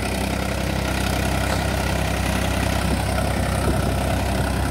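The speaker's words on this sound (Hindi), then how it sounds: "कितनी अच्छी आवाज बना रहा ट्रैक्टर।" A Farmtrac 45 Classic Smart 48 hp tractor engine runs at about 1400 rpm, a loud, steady diesel chug with constant low rumble and vibration, close by and without speech.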